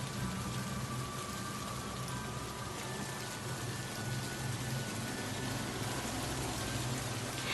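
Steady rain falls on a stormy night outside an old haunted mansion, a dense continuous hiss with no talk and no breaks.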